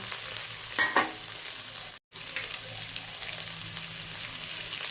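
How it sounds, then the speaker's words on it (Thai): Thai roasted chili paste being stir-fried in a pan for tom yum fried rice, a loud constant sizzle with spatula scrapes and a short silent gap midway, no one talking. "ยังใส่น้ำพริกเผานะคะ พริกเผาไปผัดค่ะ"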